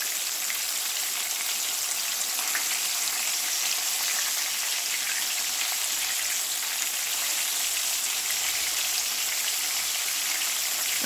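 Chicken tenders frying in oil produce a continuous, even hiss and sizzle, close and steady with no pauses, resembling light rain, and no voices over it.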